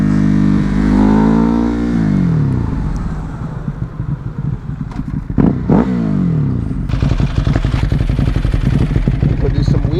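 A Ducati Hypermotard motorcycle engine revs up loud and close, falls back, then chatters and clatters through a rough, pulsing idle near the end, with voices talking over it.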